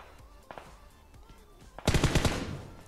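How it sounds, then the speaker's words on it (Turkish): Automatic gunfire aimed at the player in PUBG Mobile, a loud rapid burst of shots that breaks in near the end after a few scattered quieter pops. "Hop, biri bana sıkıyor."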